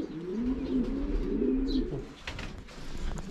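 Racing pigeons coo in a low, rolling murmur through the first two seconds, then fainter bird calls and scattered rustling continue at a loft during the first race of the season.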